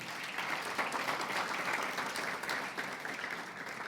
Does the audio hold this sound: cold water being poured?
no